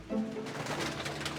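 Pigeons kept by a bird fancier coo softly, with a low coo near the start under a busy, noisy background.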